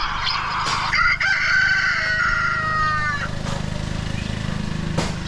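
A recording of a rooster crowing plays from YouTube on a device, giving one long, clear cock-a-doodle-doo over a steady background hum, followed by a faint, fainter rattling.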